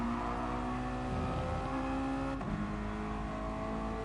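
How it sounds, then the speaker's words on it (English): A Mazda MX-5 race car engine at Brands Hatch during an MX-5 Championship race holds a steady, loud drone, with a brief break near the middle as it shifts gear, then carries on, with no voices. "Just listen to that Mazda engine going up through the gears and then down a gear"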